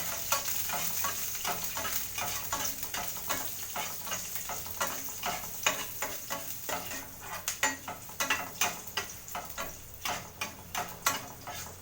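Sambar tempering of dried chilli and onion frying in hot oil, a continuous close sizzle broken by frequent sharp crackles and spatters that grow busier toward the end, no voices.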